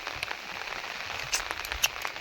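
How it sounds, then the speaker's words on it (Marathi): Steady heavy May rain patters on a surface, with scattered louder drops tapping nearby over a continuous hiss. "मी तुम्हाला दाखवतो पाऊस किती"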